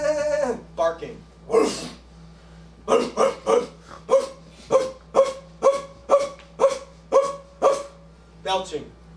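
A human voice imitates a dog as a vocal tic in a live stage play, giving a rapid series of about a dozen sharp, evenly spaced barks, loud and close.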